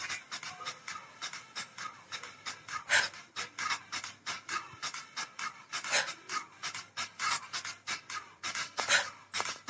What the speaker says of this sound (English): Breathe in down. Breathe out up.